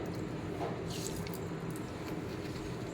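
Mustard seeds drop into hot oil in a pan while cooking an eggplant and potato palya, giving a dense, close sizzle with soft crackles and pops over a steady frying hiss.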